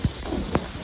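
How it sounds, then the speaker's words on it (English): Large, ploppy raindrops falling during a heavy storm with hail, landing as a few distinct, separate plops over a soft steady wash of rain nearby. "Just ploppy raindrops"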